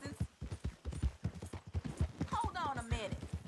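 Horse hooves clop in a steady rhythm in Red Dead Redemption 2, heard under a man's speech as the horse moves along.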